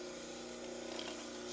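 An orthodontic model trimmer grinds a dental cast, a steady motor hum with a constant buzzing tone and a faint abrasive rasp building slightly toward the end.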